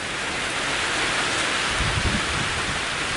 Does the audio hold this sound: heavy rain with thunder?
yes